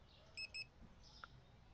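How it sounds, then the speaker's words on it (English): Two short, quick electronic beeps from a checkout scanner in the Supermarket Simulator video game, clear tones over a faint, quiet background. "I only heard one beep"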